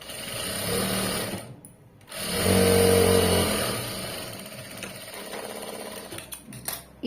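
A sewing machine stitches cloth in close, steady runs, breaking off briefly near the start before resuming a continuous hum that tapers and ends with a few clicks.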